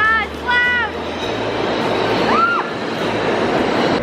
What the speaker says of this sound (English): now we are back at the subway to go to our next location. Ah, it's loud!